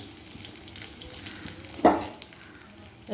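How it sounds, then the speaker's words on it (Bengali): Dried red chillies and black cumin (kalonji) hitting hot oil in a kadai, giving a sudden sharp sizzle burst that fades, over a low background hiss of cooking, with no talking. "দুটো শুকনো লঙ্কা দিয়ে দিলাম"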